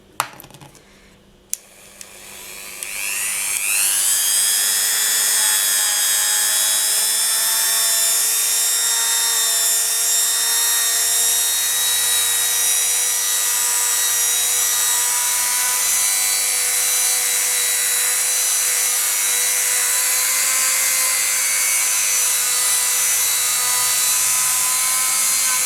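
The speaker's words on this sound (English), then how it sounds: "So I'm using a Dremel 3000 to buff." A Dremel 3000 rotary tool buffs a polymer clay trinket dish. After a few faint knocks, the motor spins up into a loud, steady high-pitched whine that holds unbroken for over twenty seconds.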